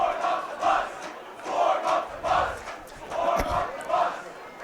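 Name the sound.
crowd noise at high school football game as clock ticks down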